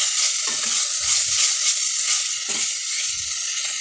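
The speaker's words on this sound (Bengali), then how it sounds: "আর এখানে আছে টমেটো পেঁয়াজ রসুন আদা যা হয় সব দিয়ে আমি এটা মশলাটা কষাচ্ছি" A masala of tomato, onion, garlic and ginger fries in a pan, a loud, steady hiss of sizzling oil with a few soft stirring thumps beneath it and no voices.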